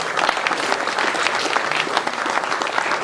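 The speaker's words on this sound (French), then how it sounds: "on peut l'applaudir" An indoor crowd at a Tour de France exhibition in Clermont claps continuously in a thick, even wash of applause that holds steady for the whole stretch.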